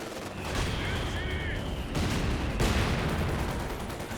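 MG42 machine gun fire in Company of Heroes 2, dense rattling bursts blended with other gunfire and explosions from a battlefield, continuous and fairly loud throughout with a brief gap midway.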